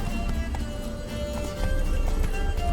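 Horse galloping in the video game The Witcher 3, a quick run of clip-clop hoofbeats with a brief quieter dip midway before the pace picks back up, close and clear.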